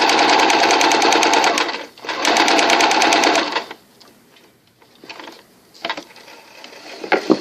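A sewing machine stitching shirring lines on fabric runs in two steady, rapid bursts of needle clatter, with a short pause between them, then softer handling clicks.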